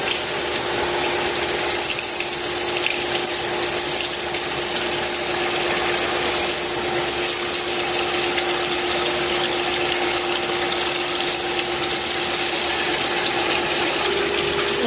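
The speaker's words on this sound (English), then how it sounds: "And we want to fill up our fryer." Oil is pumped into a commercial fryer in a loud, constant, steady rush of pumping liquid, heard up close with a continuous mechanical hum underneath and no speech.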